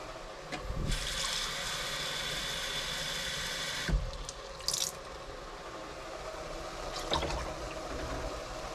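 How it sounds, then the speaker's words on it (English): Water pours steadily into a pot holding rice for a weeknight dinner, a broad rushing splash lasting about three seconds and close by, followed by quieter clanks and short sloshes. "you put twice as much water in, so I'm going to go ahead and dump 2 of those guys in"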